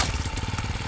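A child's motorbike engine sputters as it tries to start, a close, loud, uneven chug with rapid pulsing firing like a small lawnmower engine, no talking.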